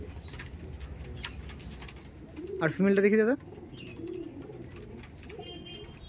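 Chatiyal Madrasi pigeons give a single loud close coo lasting under a second, set between stretches of someone talking and faint background chatter.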